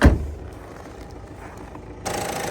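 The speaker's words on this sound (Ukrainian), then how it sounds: "під капотом двигун заведений, жодних шумів, якихось піскотів, нічого немає, все рівномірно працює" Peugeot 5008 with a 1.6 HDi diesel, running under the hood at an even idle, a steady low hum throughout with a sharp knock at the start and a brighter hiss joining near the end.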